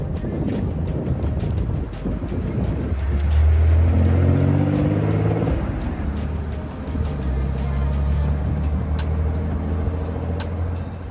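A Nissan 300ZX twin turbo being driven, its engine droning low and steady with a rising pull partway through, heavy wind rush over the microphone throughout, loud and close.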